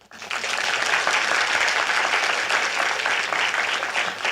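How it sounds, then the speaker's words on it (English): Audience applause after a talk at a talkathon event, a steady, full round of clapping that starts suddenly and carries on evenly, with no voices over it. "Yeah, bigger round of applause."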